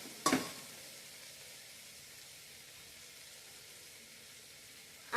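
Aubergine and potato curry with salt and chilli sautés in a pot, a steady soft sizzle with a sharp stirring scrape at the start and another at the end, no voices.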